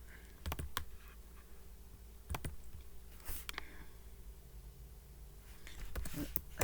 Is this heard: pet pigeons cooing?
no